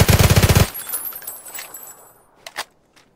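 Rapid automatic gunfire bursts loudly in a war video game, a tight rattling volley that stops abruptly, followed by fading echoes and a couple of sharp distant shots.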